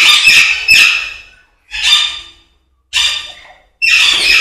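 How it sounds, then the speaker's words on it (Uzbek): Harsh, loud Alexandrine parakeet squawks close by, coming in four or five raspy bursts separated by short pauses. "Bu yoqda ham Aleksandrskiy papugaylar, maladoylari bular ham."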